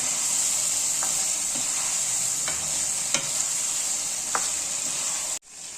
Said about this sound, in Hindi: ये देखिए आलू कीमे को अच्छी तरह से मैंने भून दिया।